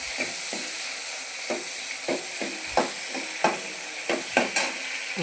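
Dry red chillies fry in a pan for banana stem chutney, giving a steady sizzle with soft intermittent stirring scrapes, close and moderately quiet, with no voices.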